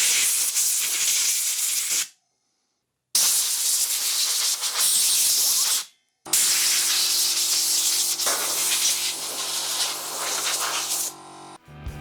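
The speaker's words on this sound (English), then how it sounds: "air compressor." An air compressor's nozzle blasts air in loud, close hissing bursts, stopping briefly twice before the third long blast, used while cleaning a second-hand Xbox.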